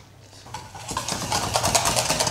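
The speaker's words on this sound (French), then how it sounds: "On mélange correctement" Eggs, flour and sugar being stirred together with boiling milk for pastry cream, a steady scraping whisk in a bowl that grows louder and busier after the first half second, close up with no talk.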